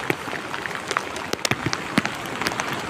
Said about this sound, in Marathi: 15 मिनटं हा पाऊस पडतोय आणि जोरदार आहे